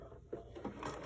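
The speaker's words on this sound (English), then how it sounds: "I'm going to turn my sewing machine on to zigzag stitch" A home sewing machine running a zigzag stitch to hold wire in the seam allowance of a fabric face mask, a soft, quiet mechanical whir with faint rhythmic clicking, close by and without speech.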